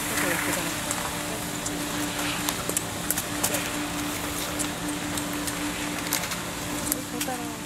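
Steady rain falls at an early-morning ski camp in Karuizawa, a dense continuous hiss with scattered drip ticks, a low hum underneath and a voice speaking over it.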